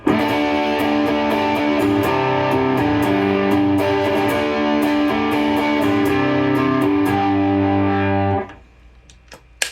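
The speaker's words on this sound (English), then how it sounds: "The Ryra sounds like this." Klon-style Ryra overdrive pedal driving an electric guitar, sustained strummed chords with a warm, crunchy distortion played steadily for about eight seconds, then cut off and ringing out into near silence.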